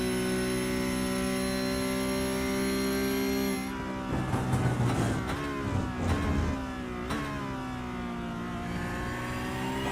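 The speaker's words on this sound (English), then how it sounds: "David Griffin is wringing this thing's neck all the way up to the rev limiter" A Porsche Cup race car engine howls at steady high revs up to the rev limiter, then drops into rougher, choppier bursts as the driver lifts and shifts, before settling back into a loud sustained drone.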